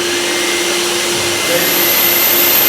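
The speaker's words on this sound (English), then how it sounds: "you should be able to hear each individual motor switch on" Kiam Cyclone gutter vacuum running as its motors switch on, giving a loud, steady whooshing roar that rises in strength partway through as another motor kicks in.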